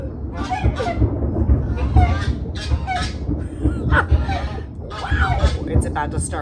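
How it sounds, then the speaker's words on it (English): Geese honk and cackle outdoors during a rainy storm in Panama, a clustered flock sounding over a steady wash of background noise while a person talks. "Okay, sorry, that's our geese."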